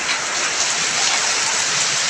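Small hailstones falling in Fairview, a steady dense hiss of ice pellets hitting surfaces, continuous and fairly loud with no voices.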